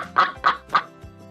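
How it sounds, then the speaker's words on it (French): A duck gives three loud, nasal quacks in quick succession, close and distinct, then falls quiet. "On dit que le canard cancane ou nasille."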